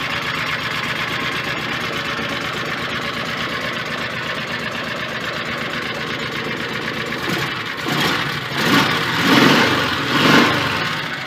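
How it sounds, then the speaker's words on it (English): A Kawasaki Mule FD620 fuel-injected engine runs at a steady close rattling idle, then starts blipping up and settling back down in a few uneven surges. "FD 620 with a fuel injection. Watch how easy it starts. Idles up, comes right back down."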